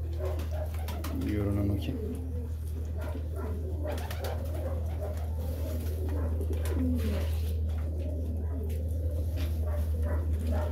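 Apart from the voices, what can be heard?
balloon pigeons cooing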